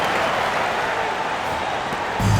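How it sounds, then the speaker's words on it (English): Simulated arena crowd in NBA 2K26 basketball roaring after a flashy finish at the rim, a dense steady wash of cheering and applause that swells louder near the end. "the crowd goes crazy after seeing that finish"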